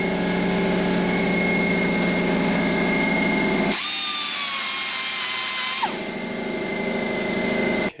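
A high-torque, low-RPM die grinder works on galled spots on aluminum, giving a steady, loud mechanical whine. The pitch rises sharply partway through, then drops back to a lower drone. No one speaks.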